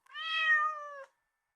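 A kitten gives a single clear, drawn-out meow lasting about a second, up close and alone in silence.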